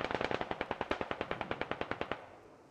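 A long burst of rapid, evenly spaced machine gun fire in the military shooter game Squad, about twenty sharp shots in quick rhythm that stop abruptly, loud and alone.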